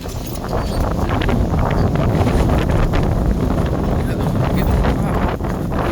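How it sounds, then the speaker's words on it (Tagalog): Strong, cold winter wind outdoors in Canada roars and buffets the microphone continuously at high volume, a dense rushing noise with no pauses. "Lakas ng hangin."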